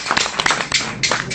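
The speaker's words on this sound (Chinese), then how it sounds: "可以鼓掌" Scattered clapping from a small audience at a Beijing crosstalk and kuaiban storytelling venue: a handful of uneven, close claps over a short stretch, with no voices.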